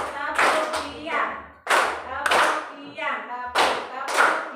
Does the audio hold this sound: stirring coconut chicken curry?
no